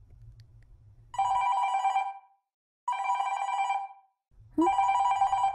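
A mobile phone rings in three long electronic bursts separated by short pauses, loud and close, with a faint low hum between rings and no talk.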